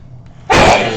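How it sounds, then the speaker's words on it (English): A single sudden sneeze bursts out at close range, a sharp loud explosive blast after a brief quiet intake. "Bless me, for I have sneezed."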